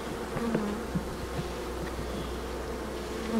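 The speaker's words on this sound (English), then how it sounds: "I think these bees are in broody mode and they're just sticking close to the brood." Honey bees hum in a steady, dense drone from an open all-medium beehive during an inspection, close and continuous with occasional louder individual buzzes passing by.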